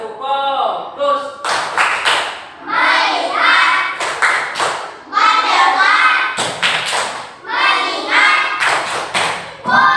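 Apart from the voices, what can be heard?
class clapping a focus clap rhythm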